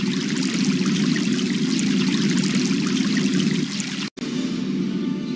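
Rushing river water from the Warcraft 3 Reforged undead campaign flows in a steady, loud wash, briefly cut by a sudden dropout near the end before resuming.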